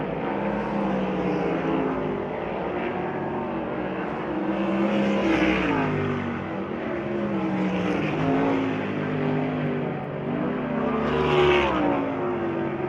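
USAC Silver Crown race cars running final practice laps at Belleville, a loud, sustained engine roar that swells and fades repeatedly as cars pass, with no talking.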